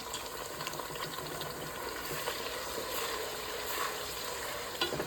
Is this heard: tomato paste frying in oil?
yes